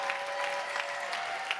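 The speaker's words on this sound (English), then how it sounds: "I think that needs a round of applause" A convocation audience claps in a hall, a brief, even burst of many hands with a few sharper individual claps standing out, moderately loud and with no talking.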